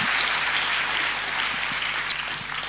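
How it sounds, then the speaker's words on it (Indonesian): Congregation claps steadily through a church prayer service, a dense continuous applause filling the room at moderate level with no talk over it. "Berikan tepuk tangan kita untuk Tuhan kita."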